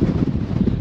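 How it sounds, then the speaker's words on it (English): Strong wind buffets the microphone at a hilltop viewpoint, a brief loud low roar with no voices. "But listen to the wind. Wow, it is pumping up here."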